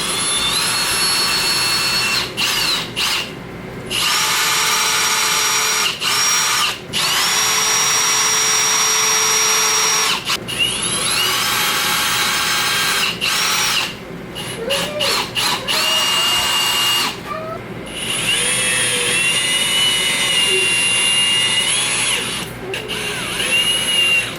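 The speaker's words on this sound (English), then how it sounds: "I just had to drill 4 new holes" A power drill whines loudly while boring holes in a wall for a foam cannon mount, running in long bursts of several seconds broken by brief pauses and speed changes.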